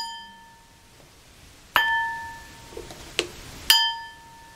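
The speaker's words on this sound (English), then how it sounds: "hitting the glass with this piece of metal" A glass struck three times with a piece of metal, each hit a sharp bright ping that rings with a sustained tone before fading; the strikes come at uneven intervals and stand alone with no talk.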